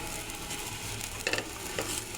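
Vermicelli being stirred with sugar in a frying pan, a soft steady scraping and faint sizzle with a few brief clinks of the utensil near the end.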